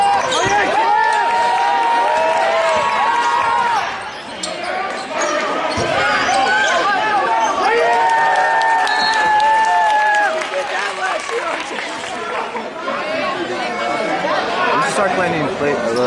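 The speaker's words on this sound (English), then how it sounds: "obviously you can hear the crowd going crazy" A loud, packed crowd roars and shouts at a UCity versus Clayton high school basketball game, with a continuous wall of cheering voices, squeaks and ball bounces close by.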